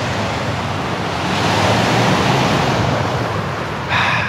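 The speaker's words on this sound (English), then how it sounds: "looking out over to the ocean" Winter surf on a UK coast by an abandoned military base makes a loud, continuous wash of waves that swells midway, mixed with wind buffeting the microphone.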